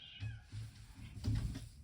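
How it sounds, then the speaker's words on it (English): A house cat meows indoors, giving a few close, fairly quiet cries in quick succession. "Can you hear that? It's my cat."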